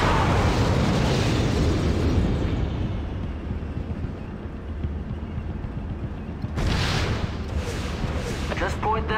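Artillery rounds land in Act of War, a loud explosion that decays into a long rumbling tail and is followed later by another sharp blast, with radio-style unit voices talking over it.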